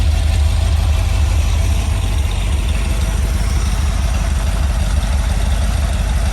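A carbureted Rover 4.0 V8 sits idling on an engine stand, a loud, steady, close rumble that holds even from start to finish with no voices.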